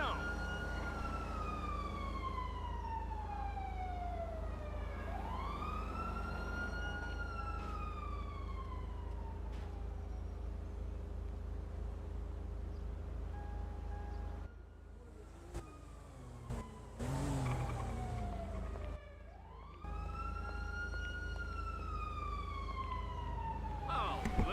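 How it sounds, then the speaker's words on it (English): Police sirens in a roleplay video game, wailing in long rising and falling sweeps that repeat over a steady low engine drone, briefly interrupted before the wail resumes, with a voice speaking over part of it. "I hear cop sirens buzzing around."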